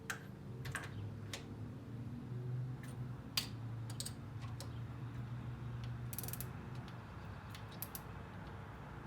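A hand ratchet works on the cam sprocket bolts of a KA24DE engine, quiet and fairly distant, giving scattered clicks and short bursts of pawl ticking over a low background hum.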